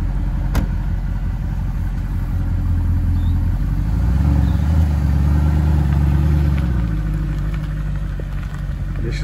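A Mercedes SLS AMG's 6.2-litre V8 idles with a deep, steady rumble that swells briefly in the middle before settling back, close and continuous.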